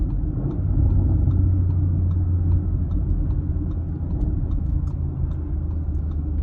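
An Audi SQ8 slowing down on a test drive, heard from the cabin as a steady low engine and road rumble with no talking.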